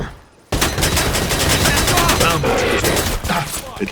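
Sustained automatic gunfire from Predator: Hunting Grounds bursts in abruptly after a brief quiet and rattles on loud and continuous, close up, with no break.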